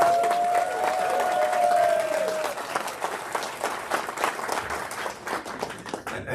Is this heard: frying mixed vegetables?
no